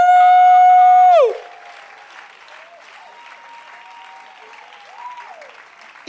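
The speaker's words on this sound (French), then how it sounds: "Acclamons le Seigneur!" A church congregation bursts into applause and cheering at a testimony service, a loud, sustained wash of clapping with scattered whoops, preceded by a brief held musical tone.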